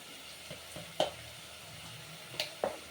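Ginger-garlic paste frying in hot oil for chicken curry, a soft continuous sizzle broken by a few sharp crackles and pops, fairly quiet and close, with no talking.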